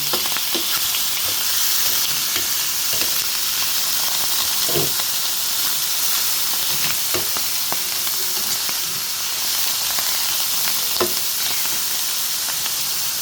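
Mushrooms fry in a pan for carbonara, a steady close sizzle and hiss with scattered light clicks and stirring taps throughout.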